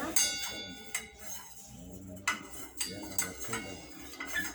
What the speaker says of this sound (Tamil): நல்லா கிளறி விட்டுக்கோங்க